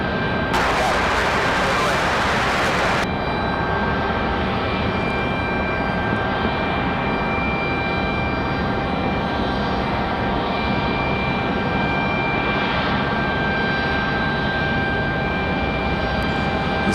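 A small plane lands at Raleigh Durham airport with a steady engine drone that holds throughout, plus a brief burst of broadband noise near the start and faint talk in the background.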